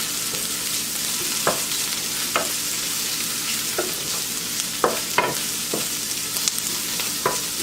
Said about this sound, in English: So I'm gonna pop that right in the pan with the mushrooms, stir that in.